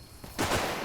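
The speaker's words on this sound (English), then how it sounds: "I can hear the bullets just falling in the ground" Gunfire in an Arma 3 campaign battle, a dense burst of shots and rounds striking the ground nearby, starting abruptly after a quieter lead-in and holding loud and steady to the end.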